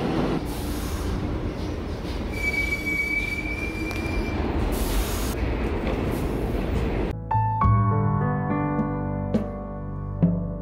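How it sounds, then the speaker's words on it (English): A New York elevated subway train in motion, heard from on board: a loud, steady rumble with a long, high wheel squeal, then quieter ringing tones and sharp clanks as it slows. "So right now I got off the train"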